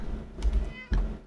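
A cat in a video game lets out two short meows in quick succession, close and clear, over light background noise.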